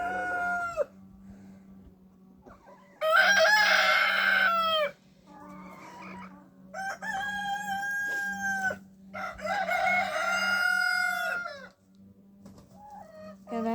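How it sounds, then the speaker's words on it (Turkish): A village rooster crows several times in drawn-out calls, fairly close, with a steady low hum underneath and some clucking between crows. "Horozlar da burada takılıyorlar."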